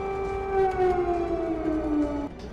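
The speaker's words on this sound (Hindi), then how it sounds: "24 घंटे तक व्हाइट हाउस में सायरन बजता रहा" A siren at the White House wails steadily with a slowly falling pitch, loud and sustained, then cuts off near the end.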